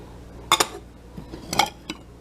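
Chicken soup with coconut milk is served into a bowl in two bright clinking bursts, as a ladle or spoon knocks against the dish, then a few softer taps. The sounds are close, with quiet between them.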